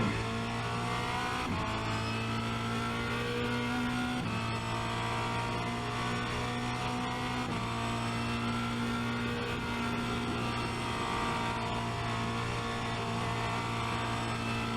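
A Formula Renault 2.0 race car at Spa-Francorchamps accelerates hard out of a tight turn, its engine note loud and close, droning steadily with brief dips at each gear change as the revs climb again.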